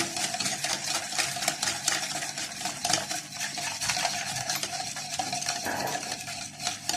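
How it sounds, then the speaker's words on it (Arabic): Nuts being stirred with a spoonful of milk powder in a bowl while making crispy nut-filled qatayef, a steady dense scraping and rattling that continues throughout at close range, no voices. "هنزل عليهم بمعلقه اللبن بودر، معلقه من اللبن البودر، وهقلبهم كويس قوي."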